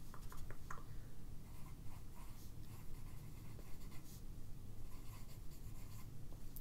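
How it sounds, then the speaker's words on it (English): Pen scratching on paper as notes are written by hand, a continuous close, soft, steady scribble with faint taps and strokes throughout, quiet and intimate. "why don't I write that down?"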